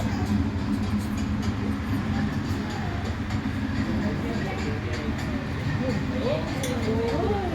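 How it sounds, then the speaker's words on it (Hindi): A steady rumble of an electric train rolling along, with a continuous low drone and faint metallic squeals, and voices murmuring underneath. "तो ये थी बिजली की सहायता से चलने वाली रेलगाड़ी।"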